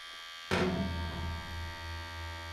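A Phantom tattoo pen machine from Monsters Inc switches on at 6 volts and runs with a steady, smooth electric buzz and hum, close up and alone.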